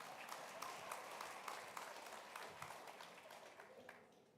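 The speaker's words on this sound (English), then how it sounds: "I may receive a round of applause." An audience at a policing summit in South Africa gives a round of applause, a wash of many hands clapping at moderate distance with a few sharper claps, slowly fading out.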